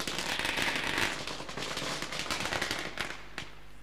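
Firecrackers burst at a welcome ceremony at a local team contest, a dense, fast string of sharp cracks and pops that goes on steadily and thins toward the end.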